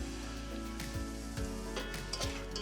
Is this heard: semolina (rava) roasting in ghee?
yes